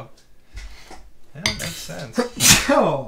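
A person sneezes sharply near the microphone, surrounded by brief speech and faint clinking of cutlery and dishes.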